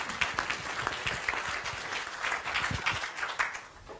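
Steady, dense audience applause fills a room at a university open meeting, continuous hand clapping at moderate loudness throughout with no pauses.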